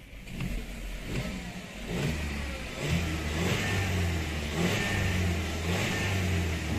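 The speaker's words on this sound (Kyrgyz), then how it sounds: "Мотору өтө сонун экен." A used car with a DSG gearbox and 283,450 on the odometer revs close by, its engine rising in a few surges before holding a steady mid-pitched drone, and no one speaks.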